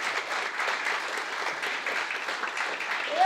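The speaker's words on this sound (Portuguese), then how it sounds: "nós temos a doutora Bianca Stella merece aplausos" Conference audience applauding steadily, a dense even wash of clapping that holds at one level from start to finish with no speech over it.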